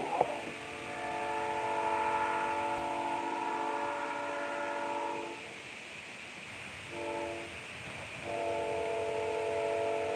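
A train horn blares repeatedly from a railroad, first one long sustained chord, then a short blast and another long one after a pause, fairly distant over a low rumble.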